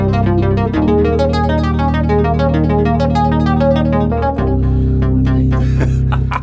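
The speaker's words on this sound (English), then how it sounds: "but you've got also very spiky kind of digital sounds like this." A Korg Prologue synthesizer plays spiky digital tones, a fast staccato run of bright plucked notes over a sustained low bass that shifts pitch twice, loud and close with no voices.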